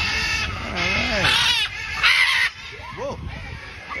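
Loud birds call near a crowd at Disney's Animal Kingdom, harsh squawks and caws repeating in bursts at close range, with people talking in the background.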